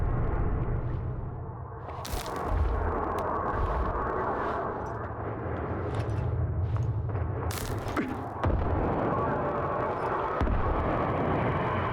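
Gunfire in the game S.T.A.L.K.E.R. 2: Heart of Chornobyl, dense rumbling combat with several sharp loud cracks standing out over a continuous booming background, with no talking.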